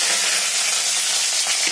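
Mustard seeds, lentils and shallots sizzling in hot sesame oil, a dense, steady bright crackle and hiss heard up close with no voices.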